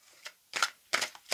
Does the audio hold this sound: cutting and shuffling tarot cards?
yes